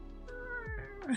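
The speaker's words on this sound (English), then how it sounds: "That sad meow." A cat gives a drawn-out, mournful meow with wavering pitch, rising and falling over about a second, heard close and clear with a voice talking faintly beneath it.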